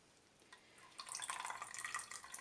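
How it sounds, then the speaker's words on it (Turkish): Whey from homemade cheese curds made with lemon or vinegar drains off in faint, close trickling and dripping that swells after a quiet start into a soft, steady patter of drops. "You need to really let it drain away like this."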